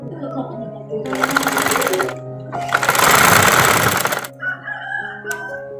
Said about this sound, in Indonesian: Kita jahit dulu.